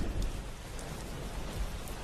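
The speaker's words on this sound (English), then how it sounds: "That would be rain." Steady rain falls outdoors in a continuous, dense hiss with low rumbling underneath, fairly loud and without any voices.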